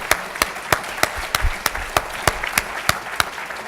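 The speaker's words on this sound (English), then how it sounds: "I want to give him a round of applause." An audience claps in a room, with sharp individual claps standing out at a steady beat of roughly three per second over a softer wash of applause, and no voices.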